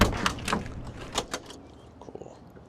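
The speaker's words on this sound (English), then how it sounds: "Doors open up wonderfully." A car door on a 1967 Ford Mustang Fastback 390 GT opens with a few sharp clicks and clunks of the latch and hinge, close and fairly loud, then quieter mechanical rattles.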